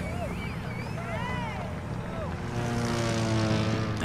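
A propeller airplane drones steadily in the video game The Crew 2, a continuous engine hum that grows slightly louder toward the end, with game music tones and a voice talking over it.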